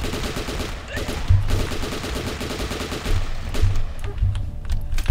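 Rapid automatic gunfire from The Last Stand 2 rattles in sustained bursts, heavy low thuds marking individual shots, with a voice talking faintly underneath.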